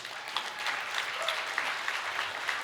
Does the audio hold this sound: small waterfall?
no